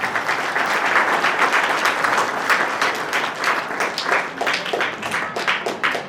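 Wedding guests applaud after the ring vows, a dense, steady clapping that holds for several seconds with sharper individual claps near the end.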